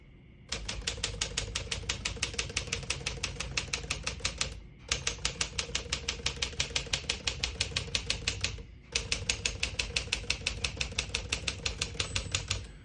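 A 1957 Smith-Corona Silent-Super portable typewriter clacks rapidly in three long runs of even keystrokes, close and crisp, with short pauses between runs.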